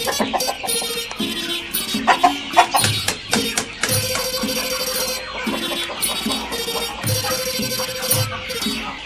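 White-feathered Phu Phan black-bone breeder chickens at a farm in Samut Sakhon cluck repeatedly in short, close bursts, with squawks and a crow mixed into a busy flock background.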